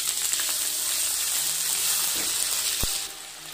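Potatoes go into hot oil with crackled cumin seeds, giving a loud bright sizzle that holds steady, with a faint knock near the end before the frying eases slightly.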